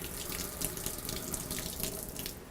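Water from a GROHE Euphoria shower system runs steadily into a cup, a close, continuous splashing hiss with slight fluctuations and no talking.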